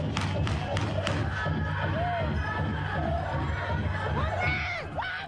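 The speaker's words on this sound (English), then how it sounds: "About 7 shots could be heard before crowds of people start to scream and run away from the area." Panicked crowd at a powwow in South Dakota screams and shouts continuously after gunfire, a dense wall of yelling voices with sharper cries rising near and far over the whole stretch.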